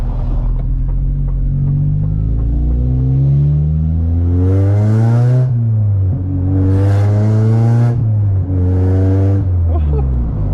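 K24-swapped Honda Civic on coilovers pulls hard through several gears, a loud close engine note climbing repeatedly with brief dips at each shift.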